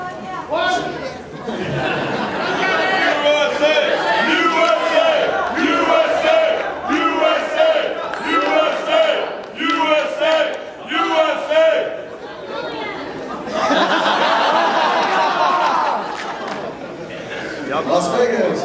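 A convention crowd at a sumo wrestling bout cheers and shouts in loud surging waves that swell and dip, with voices calling out over the noise.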